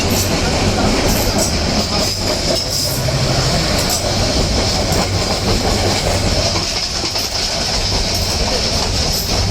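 A local train runs on the Dhaka to Joydebpur line, heard from inside as a loud continuous rumble with rhythmic clickety-clack of wheels over rail joints, faint voices mixed in.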